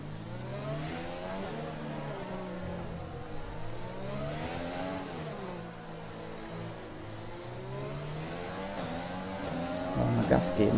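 A Formula 1 race car engine in the F1 2020 video game screams through rising and falling revs as it shifts gears, loud and steady throughout with a sharp burst of noise at the very end.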